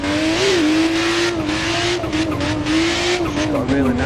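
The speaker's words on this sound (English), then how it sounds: "It's got a really nice sound to it with this sort of screamer pipe noise" Virtual 300ZX with a 2JZ engine swap and a screamer pipe, driven sideways in Assetto Corsa: a loud, sustained engine note that rises and dips as the throttle is held, with faint tyre squeal beneath.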